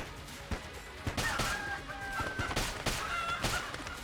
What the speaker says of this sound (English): Oh, that's a chicken.